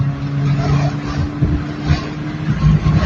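A drag car engine accelerates hard, the steady low drone rising and dipping as it shifts up through the gears, loud and close throughout.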